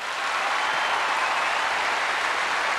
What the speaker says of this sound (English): Good applause, too, for the favourite to take the title again